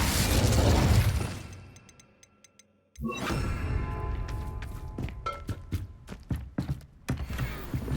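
A sharp onset launches the Incendio fire spell in Hogwarts Legacy, followed by a dense, crackling burst and a run of clicking, thudding impacts against steady game ambience; no one speaks.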